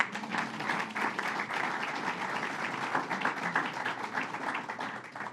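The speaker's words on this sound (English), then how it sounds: "Give them a round of applause." Steady applause from an audience at an airport completion announcement, many hands clapping in a sustained, moderately loud patter that tapers slightly at the end.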